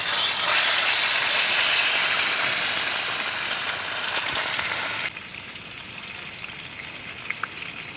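Cooking oil sizzles and crackles steadily in a pan as vegetables fry at a beachside campsite, loud at first, then dropping to a quieter fry partway through.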